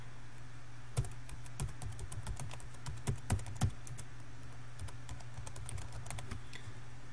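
Steady run of key presses on a computer keyboard while a web address and login credentials are entered into scanning software, crisp clicks at an uneven typing rhythm over a low constant hum.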